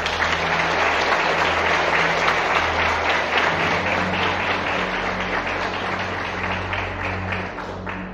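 A church congregation bursting into loud, sustained applause, dense clapping from many hands filling the room evenly and tapering slightly near the end, with faint background murmur.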